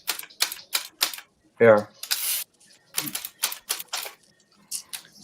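Typewriter keys struck in quick irregular bursts with carriage and bell-like clatter, close and fairly loud, a brief voice speaking between strokes.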